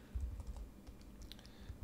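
Quiet typing on a computer keyboard: a short, uneven run of soft key clicks close to the mic, with no one talking.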